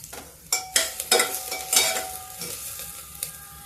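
Onion and bay leaf frying in a pan for bhandara-style pumpkin curry, soft sizzling under a few sharp spoon scrapes and taps near the start, then settling to a quieter fry, close up, no voices.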